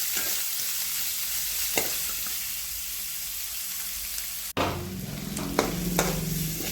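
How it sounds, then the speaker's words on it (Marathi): Crushed green chili and garlic fry in hot oil with a steady close sizzle, while a spoon stirs and scrapes the pan in scattered clinks; the sizzle grows louder partway through. "या तेलामध्ये आपल्याला हे भाजून घ्यायचं आहे"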